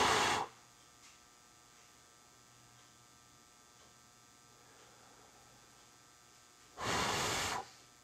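A short breath blown onto freshly squeezed solder holding an LED in a dome, near and fairly loud, heard as two brief bursts at the start and end with quiet hum between.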